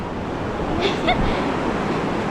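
Ocean surf rolls in steadily as a continuous broadband wash with wind noise. A faint voice calls out briefly in the middle.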